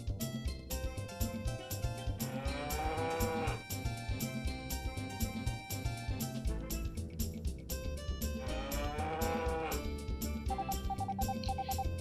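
Cartoonish cows moo twice in the Harvest Moon 64 video game, each call a short, swooping tone. Both are half buried under busy, constant game music.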